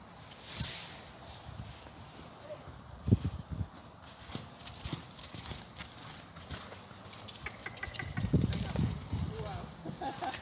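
Horse hooves in an equestrian jumping session, with irregular clip-clop thuds as the horse is tried at a gallop, fairly near, heavier toward the end, with people talking over it.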